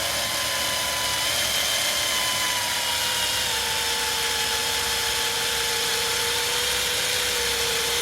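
A power drill with a 3-inch bit whines steadily and loudly for several seconds, its pitch sagging slightly as the bit bores under load, measuring ice depth on a backyard rink.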